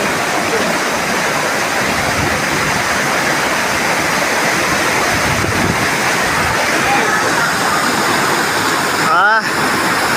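A river swollen by very heavy monsoon rain in the Konkan rushes in a loud, unbroken roar of turbulent floodwater, close and constant throughout.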